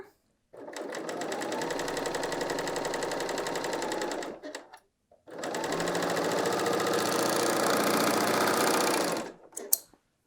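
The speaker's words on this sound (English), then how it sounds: "remove your pin, and just go to town. Sew that shoulder." A BERNINA L 890 sewing machine sews the shoulder seam of a woven top in two long, steady runs of rapid stitching, separated by a short pause, with a brief click at the end.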